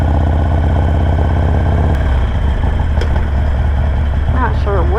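A motorcycle engine runs steadily close by, a loud continuous mid-pitched drone with rising revs near the end as it pulls away in first gear.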